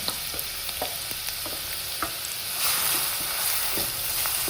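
Two medium onions, finely chopped, sauté in hot oil with a steady sizzle, punctuated by scattered spoon-on-pan clicks and stirring scrapes; the frying swells slightly louder partway through.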